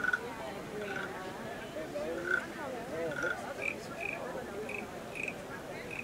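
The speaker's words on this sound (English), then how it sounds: "Frogs." Frog croaks at a strawberry festival in Cedarburg, Wisconsin: a series of short, bright croaking calls repeat every second or so, set against steady crowd chatter and voices nearby.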